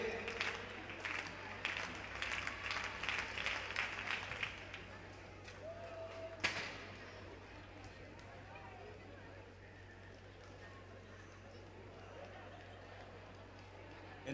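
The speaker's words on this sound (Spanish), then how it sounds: "que nos pide palmas de proba de longitude" A crowd at an indoor athletics championship claps in a steady rhythm for a long jumper, brisk even beats for about five seconds before fading into faint arena murmur and distant announcing.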